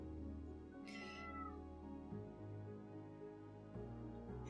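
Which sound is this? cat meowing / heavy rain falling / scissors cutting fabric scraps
cat meowing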